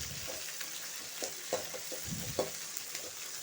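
Onions, green chillies and curry leaves sizzle steadily in a pan for a snake gourd stir-fry, with a constant bright hiss broken by a few soft stirring scrapes and clinks, no talking.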